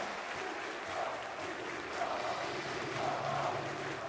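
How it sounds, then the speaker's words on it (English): A happy Polish crowd fills the arena at the PGL Major Kraków 2017 Counter-Strike quarter-final, a broad, steady roar of cheering and applause with a few louder swells, heard from within the venue. "pretty happy Polish crowd"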